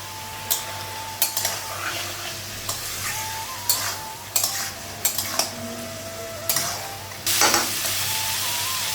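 Potatoes and spices being sautéed for fish curry in a pan, with a soft continuous sizzle under repeated sharp scrapes and clinks of a spatula against the pan at irregular intervals.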